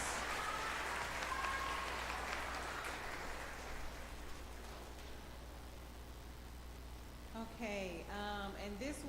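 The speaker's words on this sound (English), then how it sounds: "let's give these 4 girls another big round of applause." At an elementary school graduation, the audience applauds with a broad wash of clapping that is loudest at first and fades over several seconds. A voice comes in near the end.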